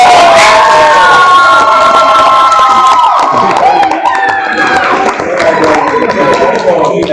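Crowd cheering and shouting with some clapping at a university summer research symposium, loud and close, with raised voices mixed into the swell of noise for several seconds.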